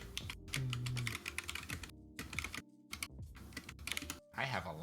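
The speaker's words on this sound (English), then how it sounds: "I have a loud keyboard." A loud computer keyboard clatters with rapid, continuous typing, mixed with other busy close-up sounds in the background.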